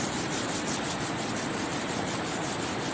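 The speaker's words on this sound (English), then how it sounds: "then once I'm done using this, then I go to a little bit finer sandpaper" Sandpaper rubs steadily along a wooden arrow shaft in a continuous close, even scratching with a soft back-and-forth rhythm.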